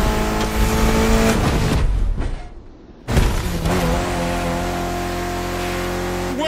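A Mitsubishi Evo race car in The Crew Motorfest roars loudly with high revving engine and tire squeal, then cuts out briefly for about a second before the engine note returns, steady and close.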